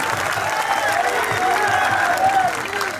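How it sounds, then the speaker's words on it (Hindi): Applause for a child at a Khatu Shyam kirtan in a residential colony, a steady crowd clapping throughout while sustained tonal sounds, likely voices or instruments, drift over the top. "जोरदार तालियां बजनी चाहिए बच्चे की।"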